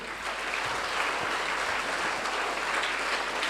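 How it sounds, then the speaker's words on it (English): Applause for children at a school anthems event, a steady, even wash of many hands clapping in a hall, moderately loud and continuous with no talk over it. "A huge round of applause for all of you."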